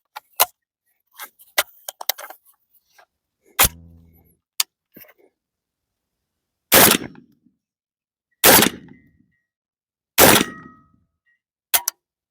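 A Tokarev Tar 12 shotgun fires 8-shot low brass birdshot: four loud, close blasts about two seconds apart, preceded by metallic clicks and clanks of the action being handled.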